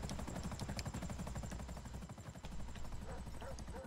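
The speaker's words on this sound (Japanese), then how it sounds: "じゃあ 絶対これヘリの音で気づくでしょ。" Helicopter in GTA Online: the rotor chops in a fast, steady rhythm, loud and close throughout the stretch.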